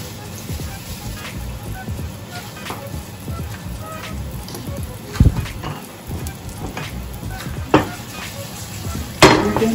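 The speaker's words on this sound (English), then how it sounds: "You know when you're sauteing, getting everything in the pot" Green onion, scallion and thyme sauteing in hot oil in a pot give a steady close sizzle, with occasional sharper clatters and knocks of stirring against the pot.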